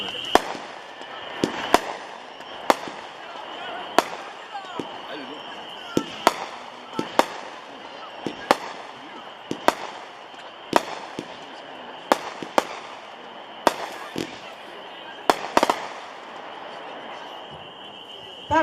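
A Biggs Red, White, Boom 25-shot firework cake fires a long series of sharp booming shots at irregular intervals, each one loud and distinct over a constant outdoor hiss.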